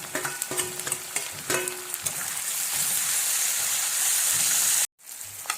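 Tomatoes hit hot oil in a kadai already holding cumin, green chilli and bay leaf, giving a loud steady sizzle with clattering stirs, cut by a brief silence near the end before the frying resumes.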